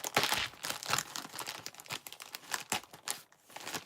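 Opening a taped cardboard box: close, busy crinkling and tearing of tape and packaging in irregular bursts, fairly quiet, with no talking.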